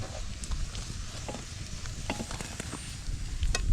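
Garlic sautéing in a hot pan gives a steady, close sizzle, broken by scattered clicks and scrapes of stirring, with no voices.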